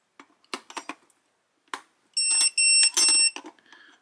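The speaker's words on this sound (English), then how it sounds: "We'll hear that little beep. It's turning on." WeHere key lock box powering on after two AA batteries go in: a few soft clicks and taps, then a bright electronic beep sequence of three sustained tones, with a faint beep at the end.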